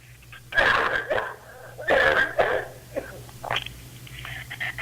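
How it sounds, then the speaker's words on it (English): Several bursts of coughing or throat clearing, close and fairly loud, spaced over a few seconds with short pauses between them. "I'm going to cough again, hang on 1 second"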